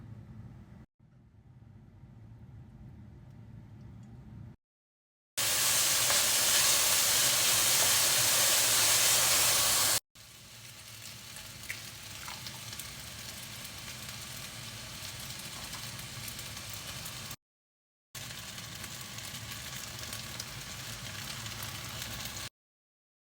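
Loud hissing sizzle of cooking oil heating in a pan for stir-fried macaroni, continuous and close, with a bright burst in the middle and short silent gaps between segments.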